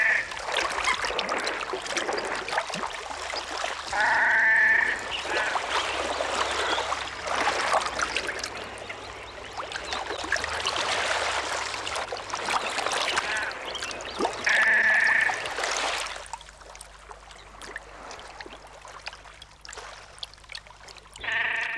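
Coots and great crested grebes clash on the water during the breeding season, with repeated bursts of splashing and churning water and occasional short calls, heard at moderate distance over a low steady background.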